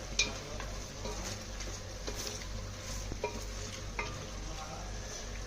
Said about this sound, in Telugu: ఇప్పుడు ఇందులో షాజీరా వేసుకోండి. షాజీరా వేసి బాగా కలుపుకొని